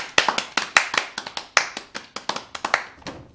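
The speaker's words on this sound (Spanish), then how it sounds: "Un aplauso para Crash House. Un aplauso." Sharp, close handclaps ring out about a dozen times in an uneven rhythm, a brief round of applause with no talking over it.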